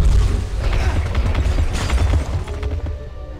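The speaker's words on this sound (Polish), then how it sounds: "Wybuchające szkło." A deep booming blast from an exploding glass enemy in a video game, with crackling bursts and rumbling debris, loud and close, fading over a few seconds into a low mechanical hum.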